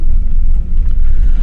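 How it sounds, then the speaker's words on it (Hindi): Car creeping forward in first gear with light throttle, a loud steady low engine and road rumble heard from inside the cabin. "और गाड़ी हमारी ये आगे की तरफ मूव कर रही है।"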